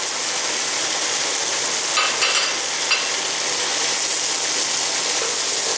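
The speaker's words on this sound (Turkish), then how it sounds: "Bunu da kavuruyorum üzerine baharatlarımı ekleyeceğim" A mixture sautés in a pan as spices are added, making a loud, constant hiss of frying with a brief burst of clicking, stirring strokes partway through.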